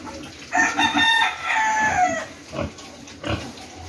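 A sow on a pig farm calls out for a boar with loud, close, high-pitched squeals and grunts in short bursts.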